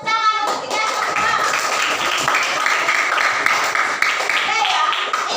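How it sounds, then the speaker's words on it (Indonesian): Primary-school children in a coding class clap together in a brisk, sustained round of applause that fills the room, with a few voices mixed in. "Beri tepuk tangan untuk kita semua."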